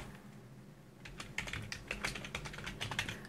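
Someone types code on a computer keyboard in Visual Studio. After a quiet second, a quick run of close, crisp key clicks follows with no talk.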